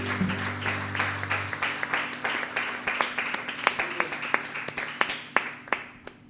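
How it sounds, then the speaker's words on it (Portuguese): A church congregation claps during a worship service, scattered moderate applause building into steady, sharper claps over a low sustained hum, with a brief voice near the start. "Aplauda o nome do Senhor e engrandeça a Ele."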